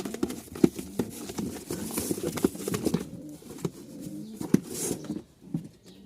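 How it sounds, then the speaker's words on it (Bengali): Domestic pigeons kept for sale, including a red Sardari pair, coo softly alongside wing flaps and scuffling in their enclosure, close and busy with occasional sharp knocks. "এই যে পাঁচ পিচ কবুতর"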